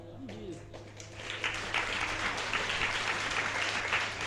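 Devotees at a temple gathering at Pandokhar Dham clap together in steady, rising applause, moderately loud and filling the space, with a brief voice at the start.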